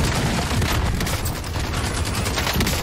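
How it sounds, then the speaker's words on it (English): Dense, continuous gunfire from the video game Warzone rattles through the whole stretch, loud and close, with overlapping bursts and no talk. "Oh, we're actually being shot at."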